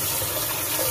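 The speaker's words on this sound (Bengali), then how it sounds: "এখন শুধু চালটা ধুয়ে নিচ্ছি।" Rice being rinsed by hand in water, a steady close wash of running, sloshing water filling the short stretch with no voices.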